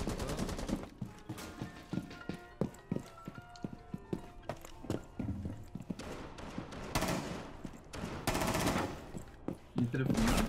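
Gunfire from the video game Rainbow Six Siege: bursts of sharp shots and rapid automatic fire come in quick clusters, loud against quieter gaps, with a player talking at times.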